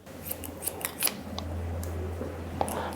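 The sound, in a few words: scissors cutting hair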